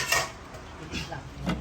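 A metal pot being covered with its lid while cooking sinigang na suno: a light clink at the start, a soft scrape, then another short metallic clatter, fairly quiet.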